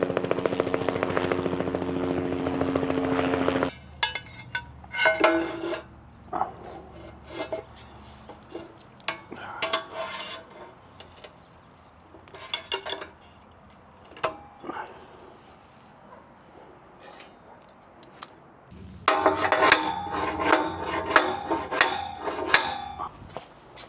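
A cordless battery-powered saw cuts material while building a lifting arm for a Bobcat skid steer, with a loud opening cut, several short bursts and pauses, and a second strong cut near the end.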